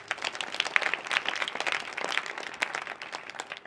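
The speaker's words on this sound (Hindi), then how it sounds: "आप सबके लिए जोरदार तालियां।" An audience at a village awareness gathering gives a burst of scattered hand clapping that carries on steadily, fairly faint and somewhat distant, with no speech over it.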